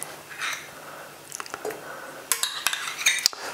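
Butter and cream are added to crushed pralines in a pot, making a filling for a tart. A quiet stretch gives way to a run of sharp utensil clinks and taps against the pot, close by, with no talking.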